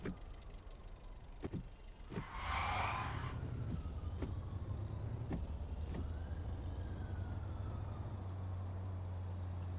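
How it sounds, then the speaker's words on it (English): A police car siren in a driving video game, heard faintly as a distant wailing tone over a steady low engine drone, with scattered clicks and a brief noisy burst early on. "I can hear that siren in my right ear."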